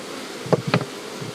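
Honeybees building comb inside a modern log hive make a steady close buzz, with a few louder, brief swells of buzzing in the middle.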